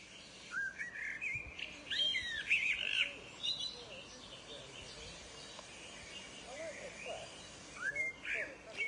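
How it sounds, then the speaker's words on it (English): Fluting, warbled phrases of a common blackbird song played back from a bird-sound website, moderately clear in short bursts with gaps between, over faint background hiss. "So I'm going to choose the blackbird. Click on it and listen to the birdsong."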